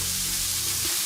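Pork chops with garlic and rosemary frying in a pan, giving a constant, close, crackling sizzle with no voices over it.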